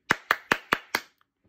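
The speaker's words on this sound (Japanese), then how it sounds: "拍手。" Five crisp, evenly spaced hand claps from a single nearby person, each sharp and short, ending in quiet.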